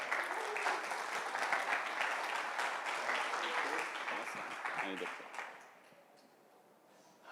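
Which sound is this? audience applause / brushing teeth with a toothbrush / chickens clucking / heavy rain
audience applause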